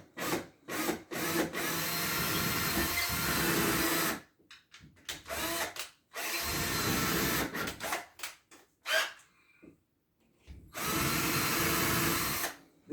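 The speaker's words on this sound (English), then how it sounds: "So let's get the holes in here. I like to drill little pilot hole." Loud power drill whirring in several bursts of a few seconds each while drilling shallow pilot holes for a TV wall mount, with short pauses and brief quieter grinding between runs.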